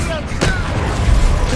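A Confringo spell blast in Hogwarts Legacy: a loud, brief burst with a sharp crackling hit partway through, over dense, rumbling game noise.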